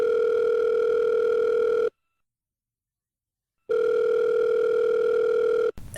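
Telephone tones from a speed-dialed call: a steady ringback tone sounds for about two seconds, stops for a gap of silence, then returns for another two seconds before cutting off near the end.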